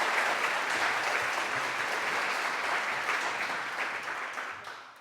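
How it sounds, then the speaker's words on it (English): A conference audience at a World Ocean Week event applauds a speaker, steady moderate clapping from a room full of people that gradually softens toward the close. "Please give Oliver a warm round of applause."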